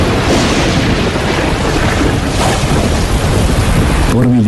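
Steady heavy rain pours down with low rumbling booms of thunder rolling underneath, loud and continuous throughout, ending with a short low tonal hum.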